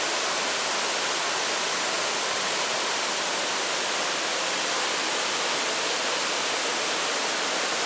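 Waterfall on the Niagara Escarpment at Owen Sound, a dense, even rush of falling water that holds at a steady, fairly loud level throughout.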